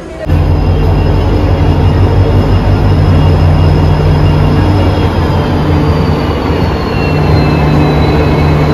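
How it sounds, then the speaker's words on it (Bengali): A special train pulls into a station on the Guwahati to Sealdah route. Its loud, continuous rumble and rattling wheels carry steady humming tones and a thin high wheel squeal throughout. "ট্রেন ঢুকছে ফাইনালি"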